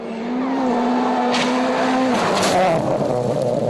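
WRC rally car engine on slippery gravel roads in Australia, a loud, close rev with a rising then dropping pitch and a brief burst of gravel spray midway, no voices.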